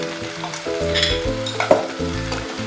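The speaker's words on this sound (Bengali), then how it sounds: "খুব ভালো করে কষাচ্ছি" Oil sizzles steadily in a pan while prawns and taro are stir-fried for a Bengali curry, with scraping and stirring clatter over a constant crackling hiss, heard close and with no one talking.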